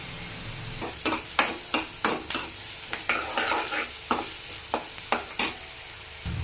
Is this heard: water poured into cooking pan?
no